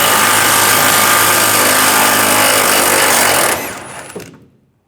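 Power tool fitted with a 21mm socket spins out a bumper bolt on a 2007-2013 Chevrolet Silverado 1500, a loud steady high-pitched whir for several seconds that winds down and fades to silence.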